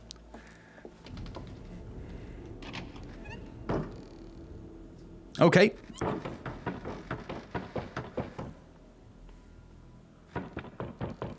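A heavy door slams shut with a loud thunk in the VR game Westworld Awakening, followed by a series of clicking and knocking sounds, with a brief spoken word earlier.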